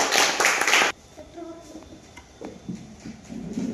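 A classroom full of students claps for a correct answer in a square-numbers lesson. Dense, loud applause fills the first second and stops abruptly. Quieter room noise and faint voices follow.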